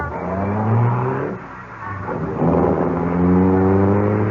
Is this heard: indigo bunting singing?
no